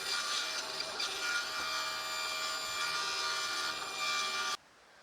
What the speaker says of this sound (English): I'm just going to trim it all off and get ready to cut another arc in it.